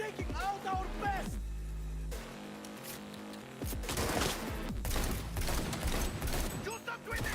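Gunfire from the video game Cyberpunk 2077 comes in rapid bursts and scattered shots over mechanical clatter and a music bed, with voices shouting amid the shooting.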